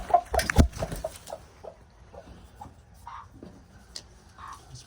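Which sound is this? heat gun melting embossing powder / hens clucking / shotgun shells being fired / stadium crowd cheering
hens clucking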